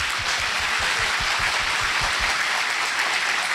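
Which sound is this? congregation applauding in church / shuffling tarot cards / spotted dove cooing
congregation applauding in church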